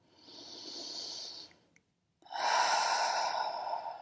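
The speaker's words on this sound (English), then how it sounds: "we're going to take some breaths into the heart" Breath heard during a yoga exercise: a long, soft inhale, a brief pause, then a stronger, fuller breath, close and alone without talk.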